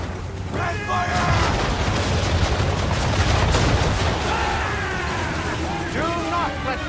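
Cannon and musket fire during a naval battle in the video game Assassin's Creed III, a loud continuous barrage of booms and rattling shots, with shouted voices over the din.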